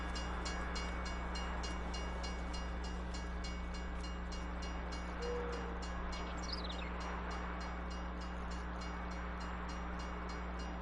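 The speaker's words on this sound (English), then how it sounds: "I bet that train's not going to make it." A train runs through an outback farm map in Farming Simulator 19, giving a steady mechanical rumble with a faint horn tone partway through and no talk.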